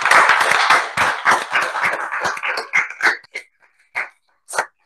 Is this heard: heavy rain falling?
no